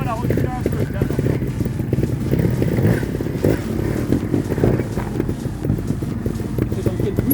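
A motorcycle idles and creeps forward in a riding lesson as the clutch and rear brake are released together, a low engine chug under steady talking from an instructor.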